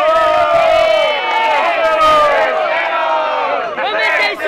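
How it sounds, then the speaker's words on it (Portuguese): Crowd at a women's freestyle rap battle semifinal in Brazil cheering and shouting loudly, a dense wall of many voices with whoops that swells and dips near the end, close and continuous. "Muito barulho! Para quem gostou da rima da Ravena!"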